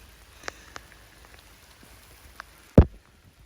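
Soft, steady patter of rain with a few scattered drops standing out, then a single louder thump near the end.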